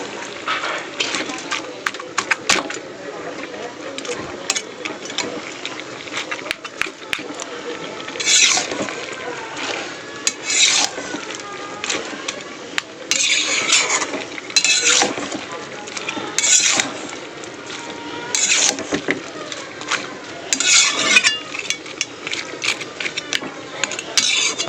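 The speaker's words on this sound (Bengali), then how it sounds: "দিয়ে ভালো করে মিলিয়ে দেবো মাথাটা ভেঙে" A fried fish head is broken up and stirred into boiled vegetable curry in a pan, with repeated scraping and clinking of a spatula against metal, a steady background sizzle and a voice talking throughout.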